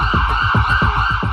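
Ambulance siren wailing at New Delhi railway station after a stampede, a loud, steady, fast-cycling electronic yelp repeating about every fifth of a second, close and unbroken.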